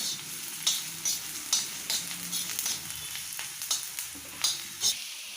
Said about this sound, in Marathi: थोडासा कांदा परतून घ्यायचा